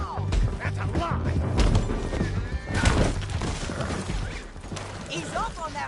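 A horse in a PS4 video game gives a loud, close whinny, with hoof clip-clops and other scattered game sounds around it.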